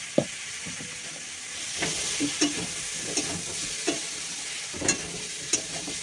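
Curry with green chilies and chili powder frying in a pan while being stirred, steady loud sizzling broken by repeated scraping and clinking strokes of the spoon.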